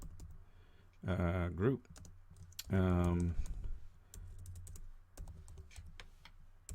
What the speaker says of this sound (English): So what I'll do is I'll start typing names